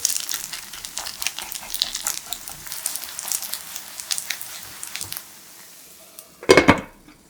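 Shredded potato strips and egg mixture frying in hot cooking oil in a pan, with a steady light crackle and scattered utensil clinks, then a brief louder clatter near the end.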